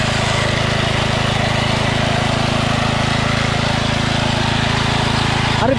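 An old motorcycle engine idles steadily and loudly close by, a continuous low rumbling drone with no pauses, heard alone throughout.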